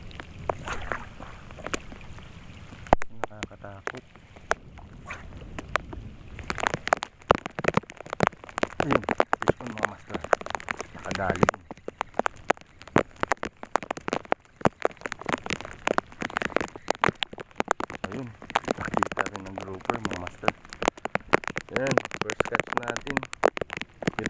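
Heavy rain pours down in stormy weather at a fishing spot, a dense, steady hiss of drops that rises and falls in intensity over the whole stretch, with brief low talk near the start.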